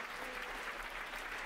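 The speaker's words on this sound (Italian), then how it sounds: "e qui siamo invece agli applausi finali" Steady, dense applause from a large opera audience at the final curtain fills the whole stretch, even and sustained without breaks.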